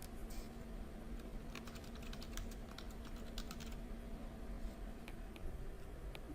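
Soft, irregular keystrokes tap on a computer keyboard as a name is typed into a Google Docs file, faint and close against a steady background hiss.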